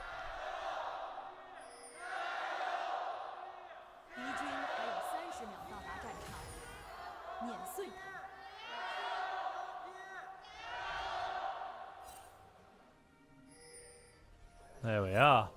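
A live esports crowd in an arena in Xi'an cheers and chants in rhythmic rising waves, with swelling roars and whoops. A sharp shout breaks out near the end.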